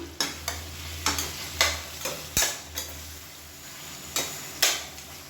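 Tomato sautéing over a medium flame with salt added, a soft sizzle broken by spaced spatula scrapes and knocks against the pan, fairly quiet, with no voices.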